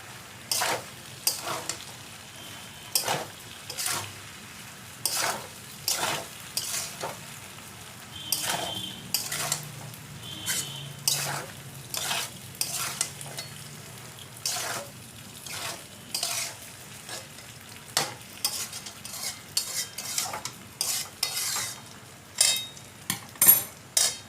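Pasta with vegetables and soy sauce being stirred in a pan: a steady run of sharp utensil scrapes and clinks against the metal, repeated every second or so, over a low sizzle of frying.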